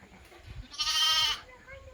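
A single clear, wavering bleat from a lamb about eight to ten days old, close and fairly loud, with quieter background sounds before and after.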